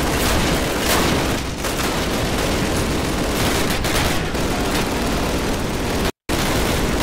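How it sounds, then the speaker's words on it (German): Sustained WWII battlefield gunfire in the 2003 Call of Duty shooter, set in France: dense, continuous rifle and machine-gun fire with booming blasts, loud and unbroken apart from a brief dropout near the end. "wir werden hier beschossen"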